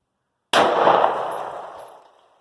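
Single 9mm pistol shot with Barnes Tac-XPD 115 grain standard-pressure ammo from a SIG 3.7 inch barrel, a sharp loud crack with a ringing tail that fades over about two seconds.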